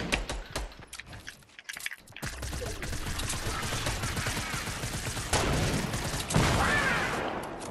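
Rapid gunfire rattles through a shooting video game in dense, continuous volleys, loud and close, with a short lull near the start before steady firing resumes.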